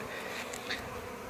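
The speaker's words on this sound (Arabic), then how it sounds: "إذا هذا هو الدبور راكم تلاحظوا فيه يشرب مع النحل" A wasp buzzes close by while drinking water alongside honeybees, a steady insect drone with a couple of brief higher whines, no voices.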